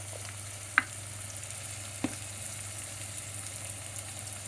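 Spices and ginger garlic paste frying in a pan for a mutton dish make a soft steady sizzle with a low hum beneath, broken by two sharp clicks, with no speech.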